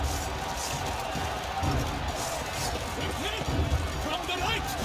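A crowd roars and cheers at a tournament in The Witcher 3: Wild Hunt – Blood and Wine, a dense, steady rumble of many voices with a few louder swells.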